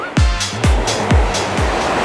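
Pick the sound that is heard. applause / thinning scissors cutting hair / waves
waves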